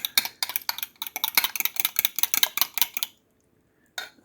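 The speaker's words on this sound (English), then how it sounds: "We whisk this into our cream of wheat." A whisk beats rapidly against a pot of hot cream of wheat, a quick run of sharp metallic clinks for about three seconds, then a pause and a final brief clatter, close and without talk.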